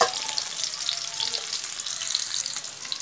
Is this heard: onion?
yes